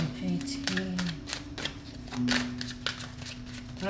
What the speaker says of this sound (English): I'm just giving them another shuffle.